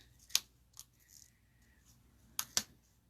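A few sharp scissor snips through linen thread ring out, one early and a quick pair near the end, with quiet pauses between.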